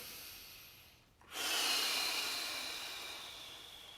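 A person drawing a long breath in during a guided meditation, a soft airy hiss that begins after a brief pause and slowly fades over a few seconds, close and alone.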